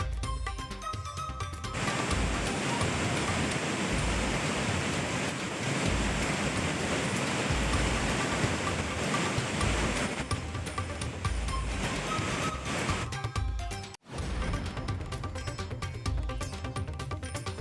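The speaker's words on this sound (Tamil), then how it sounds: "நெல்லை மாவட்டம் மணிமுத்தாறு அருவியில் வெள்ளப்பெருக்கு." Floodwater thundering over Manimuthar Falls in Tirunelveli district, a dense continuous roar that fills the whole stretch, loud and unbroken apart from one brief cut near the end.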